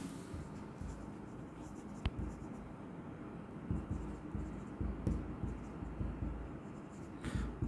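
Pen writing by hand on paper, a steady soft scratching that runs throughout the passage, close and continuous, with a few faint taps and no talk over it.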